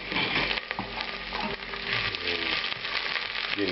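Onions, a bay leaf and mustard seeds fry in a pan of hot oil, giving a loud, dense, steady sizzle with stirring noises throughout. No one speaks.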